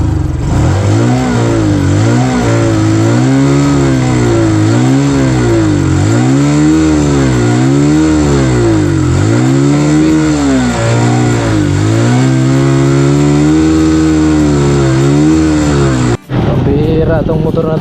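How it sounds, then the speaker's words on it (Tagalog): Motorcycle engine running with water in the gasoline, revving loudly and unevenly in a steady rising-and-falling surge for about sixteen seconds, then cutting off abruptly. "Parang ayaw makisama ang motor ah."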